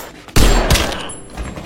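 Gunfire in a Korean action film fight scene, a sharp loud burst followed by a second crack and a lingering echoing tail, with no voices.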